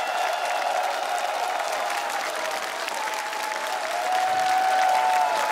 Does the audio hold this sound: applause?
yes